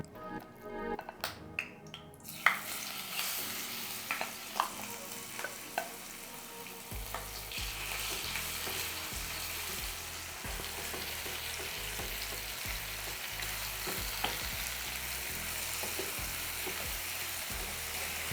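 Prawns fry in hot oil for a Mangalore-style spicy prawn ghee roast, giving a steady, close sizzle that grows denser and louder partway through, with scattered crackles and pops and a faint low hum beneath.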